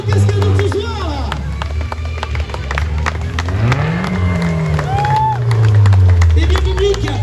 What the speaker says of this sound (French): c'est le simple applaudissement de cascadeur de ce soir